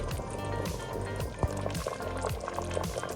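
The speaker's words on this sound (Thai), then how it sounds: "แล้วก็ต้มต่ออีกนิดนึงค่ะ" Beef tongue stew bubbling steadily in a pot, with a continuous close liquid burble and occasional louder pops.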